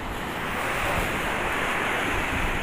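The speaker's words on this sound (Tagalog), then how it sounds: "Grabe yung lakas ng dagat yan." Strong sea waves at the Julugan fish terminal in Tanza, Cavite, a continuous heavy surf roar with wind buffeting the microphone.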